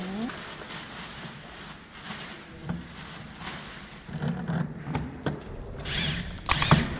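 Screws being tightened during a door lock installation, with soft intermittent mechanical clicks and scraping of a hand tool under nearby talk and movement.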